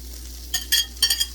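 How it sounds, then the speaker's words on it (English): Sweet yellow onion cooks in a stick of melted butter, giving a brief, close sizzle with a few quick stirring scrapes over a low hum. "To that butter, we are going to add in 1 yellow medium onion, sweet onion."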